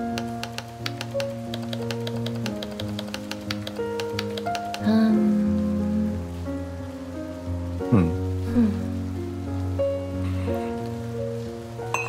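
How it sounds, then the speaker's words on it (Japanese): Rain falls in the video game Behind the Frame as a light, continuous patter beneath gentle sustained music tones, with a few brief clicks scattered throughout. "ここに越してきてから初めての雨。"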